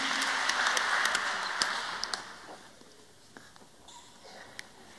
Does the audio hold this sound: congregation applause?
yes